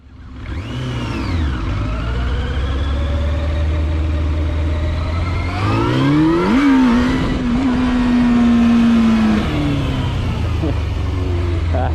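A motorcycle engine drones loudly and steadily during a wheelie course, then revs up sharply, holds a high strained pitch for several seconds, and drops back, with a voice heard talking faintly over it.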